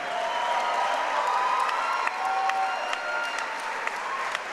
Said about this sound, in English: let's get a nice round of applause out here from both of these fighters